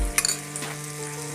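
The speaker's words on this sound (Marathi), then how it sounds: "आपण ना मच्छी ना तळून घेऊ खालच्या पण साईडनी" Surmai fish fries in a little oil in a pan over medium heat, giving a steady close sizzle with a few small clinks at the start.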